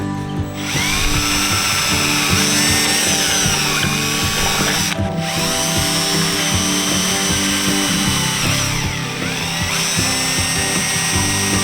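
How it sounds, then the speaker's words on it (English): A power drill whines steadily and loudly throughout as it drills a caravan door, with two brief pauses where the motor cuts out before spinning back up. "And it's also important to try and drill as straight as possible."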